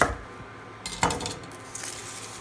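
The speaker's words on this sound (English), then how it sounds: "I'm just going to cut my onions. And I cut the ends off." Close sharp taps and clinks as a knife chops the ends off red onions on a board, two or three distinct cuts, with no talk.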